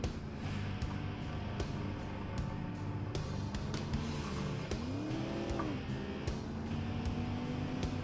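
Racing-game car engine revving steadily under hard braking into a corner, with a falling then rising engine pitch and a faint tire squeal, an 80s offroad utility vehicle driving continuously throughout.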